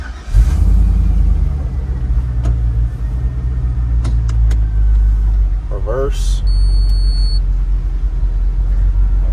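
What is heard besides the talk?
1965 Ford F100 truck LS engine started and running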